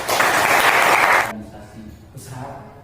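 Audience clapping at an Indonesian school event fills the first second and a quarter in a dense, loud burst, then stops abruptly, and a brief fainter patter of claps returns near the end.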